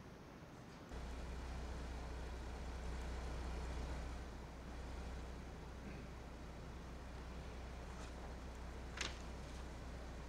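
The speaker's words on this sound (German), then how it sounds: "Da kommt er durch die Mercedes-Arena, der offizielle Truck aus dem Hause Ford" Ford F-Max racing truck in a video game drives past with a steady, faint engine drone and road noise, plus a short hiss near the end.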